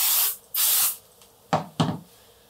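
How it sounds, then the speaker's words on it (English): A spray can mists adhesive onto the backing fabric of a quilt in a few short hissing bursts, two longer sprays followed by two quick puffs, close and clear with no talking. "So a light spraying on the back of the on the backing fabric."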